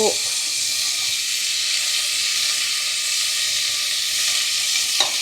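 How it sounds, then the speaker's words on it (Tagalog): Food sautéing in a pan in a home kitchen in Jerusalem, a loud, steady, close sizzle and hiss throughout, with a faint clink near the end. "Gisa-gisa lang."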